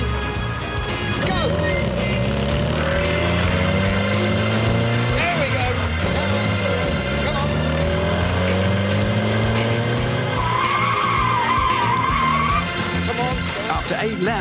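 A car drives hard on a track with a loud, continuous engine drone rising and falling as it brakes and accelerates, with tyres squealing at times and voices talking over it.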